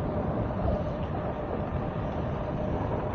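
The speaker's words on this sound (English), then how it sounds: "This wheel is loud." An EX30 electric unicycle being ridden, its wheel motor producing a steady, loud rumbling drone with road and wind noise, continuous and even throughout with no talking.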